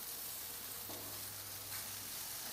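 Chicken wings sizzle steadily on a grill after being flipped, a soft, even crackling hiss with no voices over it.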